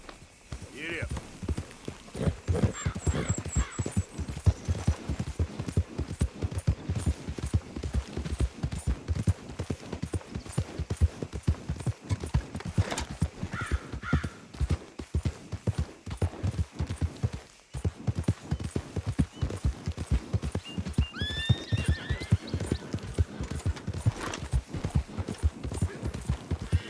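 Rhythmic clip-clop of a horse galloping in the Red Dead Redemption 2 video game, steady rapid hoofbeats that run nearly the whole time, with brief voices and a few faint bird-like chirps over the top.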